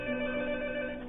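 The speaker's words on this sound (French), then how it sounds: "c'est le téléphone sur une autre ligne." A telephone on another line rings steadily, a sustained electronic tone with stacked harmonics holding level for about a second, heard alone without speech.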